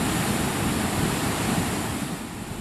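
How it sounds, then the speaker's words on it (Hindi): The Beas river in Kullu, Himachal Pradesh, in flood after heavy monsoon rain: a loud, unbroken roar of surging water that fills the whole span with a dense wash of noise, and no voices. "हिमाचल के कुल्लू में भारी बारिश की वजह से ब्यास नदी रौद्र रूप दिखा रही है। पानी उफान मार रहा है।"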